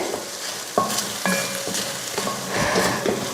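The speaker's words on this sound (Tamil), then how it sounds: "இது போல் ஒரு ரெண்டு நிமிஷத்துக்கு இந்த மாதிரி எண்ணெயில் வதக்கி எடுத்துகிட்டு" Anchovy curry masala sautés in hot oil, a steady close sizzle broken by a few sharp clanks and scrapes as it is stirred, with no talking.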